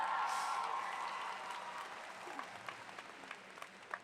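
Applause from a university new-student convocation crowd swells at first and then thins into scattered, fading claps.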